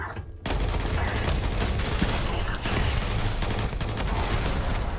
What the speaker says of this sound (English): I hear them shooting at me.